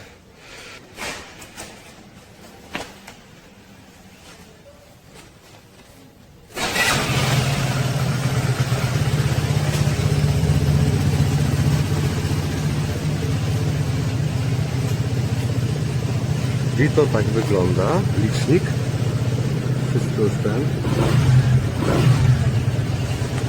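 A KYMCO Ding 200i scooter engine starts up and runs steadily at a loud, close idle. The sound echoes off the walls of a tunnel. Someone talks over the engine noise.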